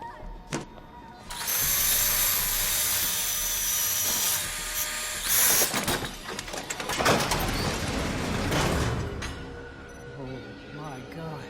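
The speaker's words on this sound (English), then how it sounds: "I got a grinder." A power grinder cuts something open in a movie scene, a loud, harsh, sustained grinding roar that runs for most of the moment and then drops away, with voices speaking over and around it.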